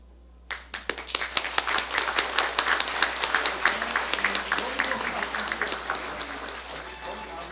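Guests at a university degree-conferment ceremony break into applause after a brief quiet start, the claps dense and rhythmic, fairly close, with a speaking voice over the clapping.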